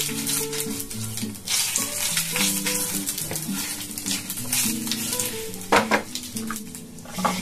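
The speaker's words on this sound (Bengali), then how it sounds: "শুকনো লঙ্কাকে এভাবে ফাটিয়ে দিয়ে দেবো, আর দেবো এখানে আমি একটু কালো জিরে" Dried red chili and nigella seeds sizzle in hot oil over a low flame while making egg curry, a continuous close frying hiss with a few light pan knocks, under a tonal music track.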